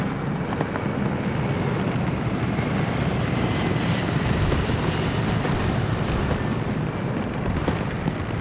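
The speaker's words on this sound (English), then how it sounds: "gunships in a tight formation" Mi-24 gunship helicopters fly in tight formation in a video game, producing a continuous loud rotor and engine drone with rumbling low end throughout. No one speaks.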